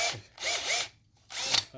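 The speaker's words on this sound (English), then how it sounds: "And I got my power drill" Power drill with a mixing paddle whirring through cement for a cement board job, two or three close bursts of spinning with short pauses between them.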